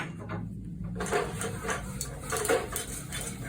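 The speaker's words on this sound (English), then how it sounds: "I've got a 1/4 cup of melted butter and a 1/4 cup of flour. And I'm just going to whisk this all together" A whisk works melted butter and flour together into a roux in a metal pan, giving a continuous rapid metallic scraping and rattling, fairly close and steady.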